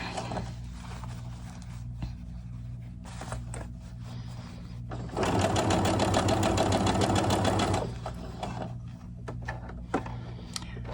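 A home sewing machine runs while stitching an 18-inch doll T-shirt, a loud rapid mechanical chatter lasting a few seconds between quieter handling noises, close up and without speech.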